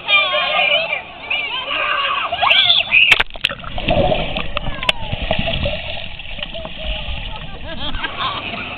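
Whirlpool water rushes and splashes continuously at an Emerald Point water park pool, a steady churning wash up close with scattered sharp splashes, while voices talk and call out over it.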